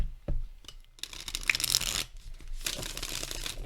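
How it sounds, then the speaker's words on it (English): A Way of the Panda tarot deck being shuffled by hand, giving soft, papery riffling bursts that come and go in uneven waves, close and fairly quiet. "Shuffle demonstration, of course."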